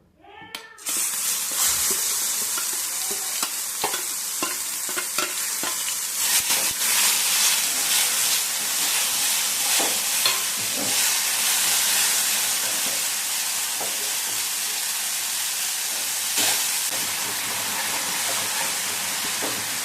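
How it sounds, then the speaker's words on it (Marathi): Paste of green garlic and chilli sautéed in hot oil for radish chutney, a continuous loud sizzling hiss after a brief quiet start, with scattered scraping and stirring ticks throughout. "ही जी पेस्ट आहे अशी परतवून घ्यायची आहे परतली की त्यातला कच्चेपणा निघून जातो"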